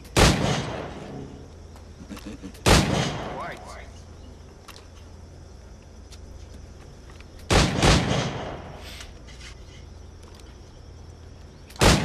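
Gunshots fired in Assassin's Creed IV: Black Flag, three loud, sharp single reports spaced several seconds apart with a fourth at the end, over a low game ambience with speech.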